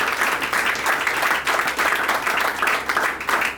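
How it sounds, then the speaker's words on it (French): Applause fills a civil wedding ceremony in Gabon, with steady, dense clapping from a gathered crowd running throughout, close and fairly loud, with faint voices mixed underneath. "Les applaudissements pour cette petite histoire."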